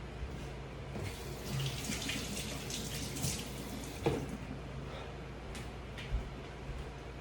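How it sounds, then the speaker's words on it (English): Tap water runs steadily into a kitchen sink while hands are washed during fish stock prep, a continuous close splashing hiss with a couple of small knocks. "I'll wash my hands"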